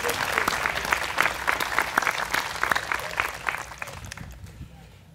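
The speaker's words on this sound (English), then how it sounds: "Please give them a hearty round of applause." A crowd at the 2022 Miamisburg Memorial Day ceremony gives a round of moderately loud, steady applause that tapers off and fades out near the end.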